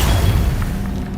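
A fire spell cast in Hogwarts Legacy, a loud, dense whooshing burst with a heavy low rumble that holds steady for about a second.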